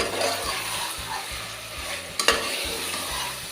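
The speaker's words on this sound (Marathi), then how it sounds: "हे चिकन आहे तेलावर व्यवस्थित आपल्याला परतवून घ्यायचं आहे" Chicken pieces sizzle in hot oil in a pressure cooker while being stirred for biryani, with a low bubbling fry and a brief scrape of utensil against the pan near the end.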